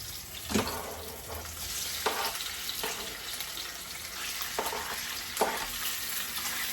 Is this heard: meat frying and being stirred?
yes